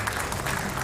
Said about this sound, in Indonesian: kita tepuk tangan